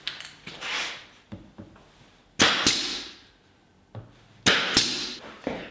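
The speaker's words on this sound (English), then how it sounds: "So a little bit of glue, and then just tack them into place." Plywood spacers are tacked onto a model railway baseboard. Sharp, close percussive hits land in pairs, each followed by a brief ringing decay, with quieter handling noises between them.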